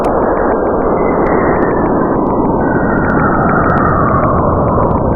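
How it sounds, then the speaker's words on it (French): A dense, steady roar of hissing, rumbling noise with faint wavering tones and occasional high blips: real radio emissions from Saturn converted to sound. "des vraies ondes radio qui sont émises par Saturne et converties en son"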